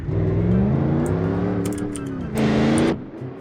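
An American pickup truck engine in the video game BeamNG revs and drones steadily, pitch rising and falling with throttle, surging louder briefly before easing off.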